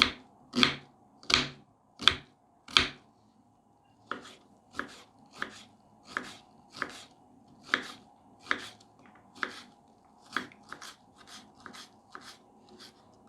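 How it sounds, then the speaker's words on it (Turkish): A knife chops sharply on a cutting board, dicing onions for lentil soup, first four loud spaced strokes, then a quicker, softer run of steady chops. "çorbamızın yapımına ilk olarak soğanları küp küp doğramakla başlıyoruz."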